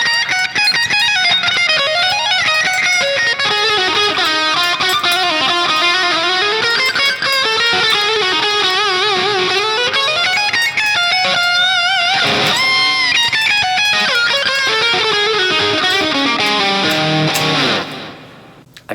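Distorted electric guitar running minor pentatonic lines mixed with major and minor scale fragments, continuous melodic phrases with bends and slides, loud and close, ending in a fade with no voices.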